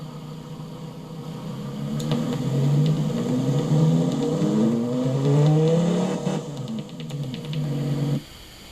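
A video game car engine with a baffled exhaust revs repeatedly, pitch rising and falling in several sweeping pulls, loud and close, then cuts off abruptly near the end.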